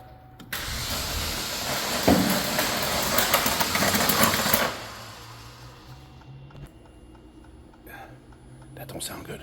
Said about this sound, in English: you hit the key to crank, and it'll continue to crank for a period of time